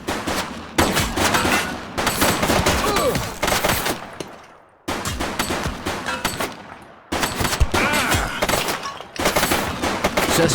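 Rapid bursts of close, loud gunfire in The Precinct, a police game, arriving in three long volleys separated by short silent pauses.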